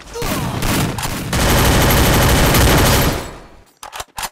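Loud automatic gunfire from a Titan Scar rifle in the battle-royale game Free Fire roars in a long, unbroken stream for about three seconds, then a few short separate bursts follow.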